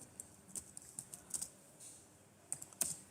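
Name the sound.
typing on a computer keyboard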